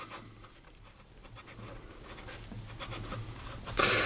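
An Aurora 88 Minerali Diopside fountain pen writes on paper, a soft continuous scratch of nib on page with faint strokes throughout and a louder rasp near the end, close and alone with no talking.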